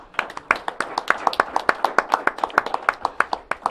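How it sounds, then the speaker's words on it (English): A small audience at a local talk show claps in a brisk, even rhythm, each hand strike sharp and distinct, moderately close and without voices over it. "Give yourself a round of applause, please."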